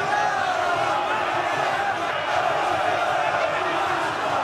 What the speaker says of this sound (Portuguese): Puxa a torcida aí.